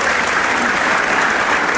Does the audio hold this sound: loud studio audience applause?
yes